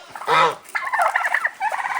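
Turkeys gobble nearby, a loud rattling gobble followed by a run of quick chattering gobbles from one or more birds, close and clear.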